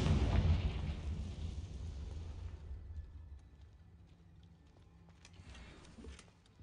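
The Confringo blasting spell in Hogwarts Legacy sets off a deep, rumbling explosion that starts loud and slowly fades into a lingering low roar.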